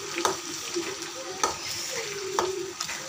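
Gongura leaf mixture frying in oil in a pan, with a continuous close sizzle broken by several sharp spatula scrapes at uneven intervals and no voices.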